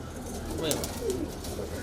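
A high-flying kalpare pigeon in a Patna loft gives a soft, short coo or two, fairly close, over a low background hum.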